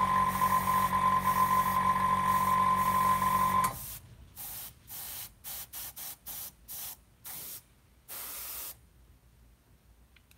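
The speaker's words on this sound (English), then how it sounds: "the airbrush is now empty. All the paint has been sprayed" An airbrush sprays paint onto a scale model, a steady close hiss for several seconds that then breaks into a string of short sputtering bursts as the paint runs out.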